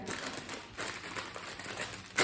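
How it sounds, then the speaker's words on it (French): Crinkling of a paper bag of cheese crisps being handled, a continuous rustle with irregular bursts and a louder crackle at the end, close up. "Les bruits de papier, tu connais?"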